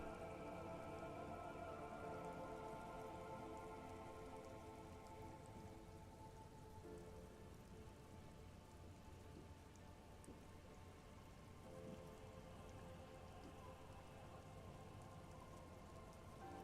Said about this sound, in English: There are rain circles on water all around.